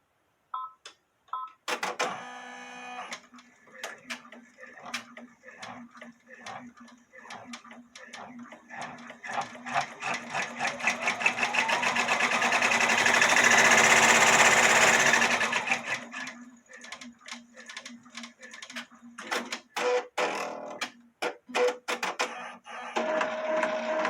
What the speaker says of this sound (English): now we're going to do the placement stitch for one of the little fish.